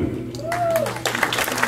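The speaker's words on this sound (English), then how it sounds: "please give a huge round of applause to my extended family" A concert audience in California applauds the musicians backing a live Bollywood vocal performance. A brief vocal tone comes first, then a thick burst of clapping swells and continues at moderate volume.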